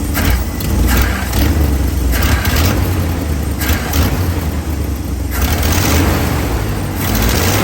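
A car engine freshly fitted with a tuned-up Holley 4412S carburetor idles loudly and close by, with a series of throttle blips that rise and fall in quick, uneven bursts and no voices.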